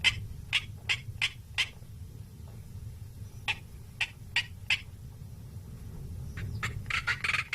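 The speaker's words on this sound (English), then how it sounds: "A male black coron breaks the early morning calm as he displays above his territory in the dunes." A male black korhaan calls in display flight over Kalahari dunes in the early morning, a series of sharp, rhythmic rasping notes repeated in spaced runs over a low steady background rumble.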